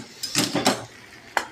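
A metal pan being lifted off the stove after roasting chillies, with a few clattering knocks of cookware and utensils in quick succession followed by one last sharp clink, close by in a quiet kitchen.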